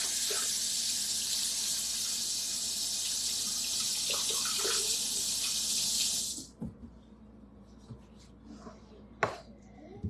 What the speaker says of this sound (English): So I'm gonna rinse this out.